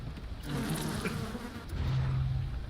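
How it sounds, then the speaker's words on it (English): Bees buzz inside a factory mechanism in the video game BioShock, a dense, continuous droning hum that swells in the second half. "I put bees in this factory mechanism."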